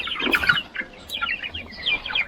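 Several chickens cluck and squawk in short, overlapping bursts close by, busy and excited as they are fed.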